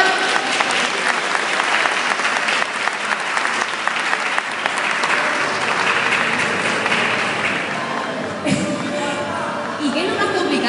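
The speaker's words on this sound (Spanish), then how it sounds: "Bueno, un aplauso, por favor." Audience applause at a cosplay runway show in Gijón, sustained loud clapping from a crowd for most of the stretch, fading out near the end as someone starts talking.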